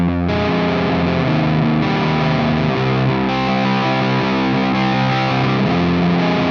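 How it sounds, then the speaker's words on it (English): Heavily distorted high-gain electric guitar through a GUP Tech T-Bag stacked with a Rat pedal, played into a power amp and cabinet: loud, thick sustained chords with a few changes, no talking. "So the tone I found working for stacking with the Rat sounds like this."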